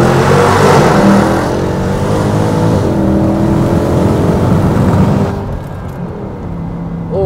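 A damaged Mercedes C63 AMG engine roars loudly and continuously, revving hard in first gear after a downshift with a deep rumble before easing slightly near the end.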